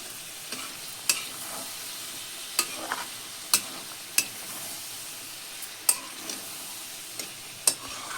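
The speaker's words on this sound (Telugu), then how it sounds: "బాగా తిప్పుకోవాలండి. అటు ఇటు కలిపెట్టి" Brinjal and prawn masala stirred in a hot pan: a soft continuous sizzle punctuated by sharp, irregular clicks of the spoon scraping and tapping the pan, close and unvoiced.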